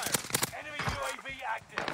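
Video game gunfire crackles in quick bursts near the start, followed by a voice and game sound effects layered over the shots.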